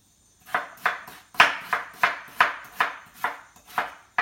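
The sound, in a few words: knife chopping potato into small pieces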